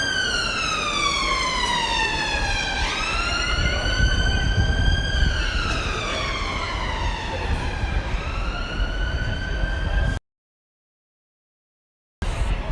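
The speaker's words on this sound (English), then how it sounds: "I'll let the ambulance go past" An ambulance siren wails loudly and steadily on an Edinburgh street, its pitch rising and falling in long sweeps as it passes close by, then the sound cuts out abruptly.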